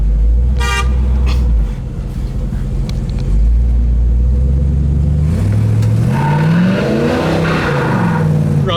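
A 1971 Chevrolet Monte Carlo restomod's V8 rumbles loudly up close, blipping and then revving hard as it accelerates away, the engine note rising and sweeping as the car passes.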